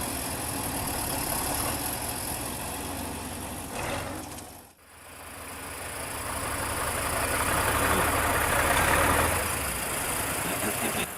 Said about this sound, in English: A K701 tractor was stuck in the middle of a vast expanse of deep snow on a winter road.